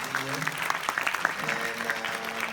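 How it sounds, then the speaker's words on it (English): Audience applause for a conference panel, a steady wash of clapping from a crowd, moderately distant, with some overlapping voices mixed in. "So maybe a round of applause to our panelists"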